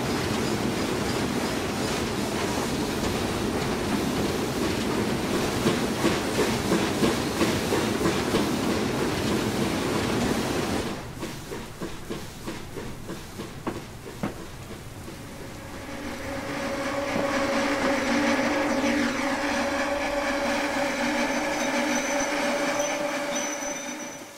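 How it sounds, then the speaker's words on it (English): A BR Black 5 steam locomotive pushes carriages through a shunt neck toward Stranraer town on Scotland's western lines in a railway simulator. A steady rolling rumble with rhythmic wheel clatter gives way to quieter clicking, then a sustained squealing tone. "then we'll be able to proceed back out and push the train back into Stranraer town"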